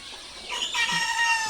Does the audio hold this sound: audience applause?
no